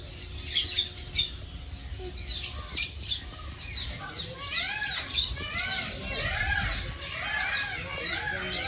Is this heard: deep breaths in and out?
no